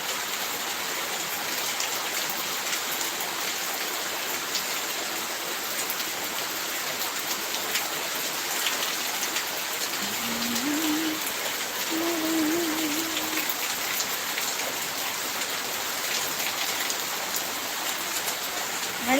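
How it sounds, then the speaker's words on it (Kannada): Heavy rain falls steadily at night and comes through as a continuous broadband hiss of drops hitting surfaces, loud and unbroken throughout, with a faint voice-like tone briefly rising midway. "ಇಲ್ಲಿ ಜೋರು ಮಳೆ, ನಿಮಗೆ ತೋರಿಸ್ತೇನೆ."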